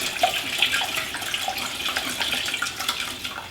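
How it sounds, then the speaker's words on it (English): Milk being poured into a bowl of whisked eggs for a crustless quiche, a steady close liquid splashing and trickling with light clinks throughout, no talking. "while I whisk it together, you are gonna add in a cup and a half of your milk."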